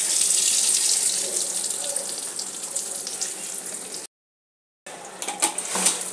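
Potato kachori fry in hot oil, giving a steady close-up sizzle and crackle that briefly cuts to silence and then resumes with sharper bursts.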